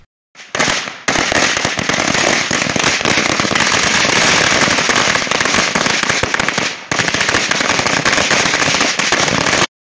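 A long string of firecrackers bursts at a celebration of a Congress victory in three state elections, rapid loud crackling that runs almost unbroken for several seconds, pauses briefly, then resumes just as densely.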